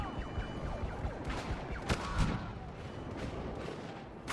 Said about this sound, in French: je vois des explosions de partout, c'est génial.